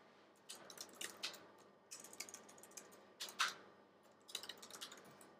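Fingers type on a computer keyboard during a talk on git tricks, delivering quick bursts of clicky keystrokes separated by short pauses, close and fairly quiet with no speech.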